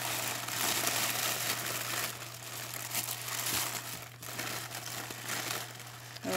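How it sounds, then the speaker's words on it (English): Close crinkling and crumpling of packaging as a Steiff Maine Coon plush cat is unwrapped, a steady rustle with a low steady hum underneath and no speech. "now let me just unwrap Lizzy"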